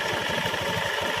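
Worn, hardened CVT belt on an automatic scooter giving a rapid, rhythmic crackling chatter over the steady idle of the engine, close and moderately loud, with no talking.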